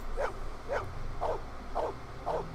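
Dog in the Blade Runner video game snuffling and giving short yips, five evenly spaced bursts about half a second apart, moderately loud over a low background hum.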